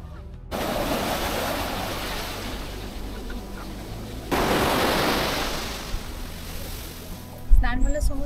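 Rough sea waves break on the white sand of Dublagadi beach, a broad roaring wash that swells, eases, then surges again, with wind buffeting the microphone and a brief thump near the end.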